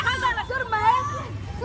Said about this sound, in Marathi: गर्दी बघा गर्दी मार्केटमध्ये पूर्ण पूर्ण खचाखच भरलेलं मार्केट.